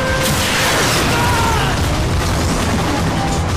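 Bombs going off in Transformers: Fall of Cybertron, a loud, dense wall of explosive blast and rumbling debris that fills the whole moment without a break.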